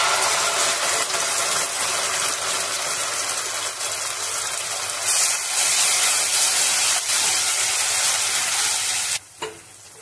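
Poppy seed paste hits a hot pan of oil with split green chillies while cooking doi ilish with panch phoron, giving a steady close sizzle and frying hiss that cuts off sharply near the end.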